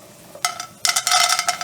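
Raisins and cashews roasting in a hot pan, a short burst of sizzling and frying crackle that starts, pauses, then swells louder and steadier, close and clear with no talking.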